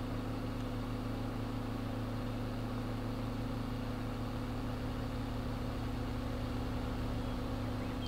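A steady, low idling drone from an older tractor engine in Farming Simulator 22, holding a constant hum with a faint mechanical rattle throughout and no talking.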